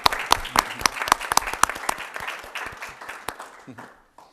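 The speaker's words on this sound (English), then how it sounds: "One final round of applause" Applause at the close of a school committee meeting, a small group clapping with distinct individual claps that thin out and fade near the end.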